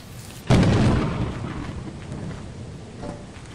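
A lightning strike in Lethal Company lands as a sudden loud thunder crack that rolls into a fading rumble over about three seconds, heard alone.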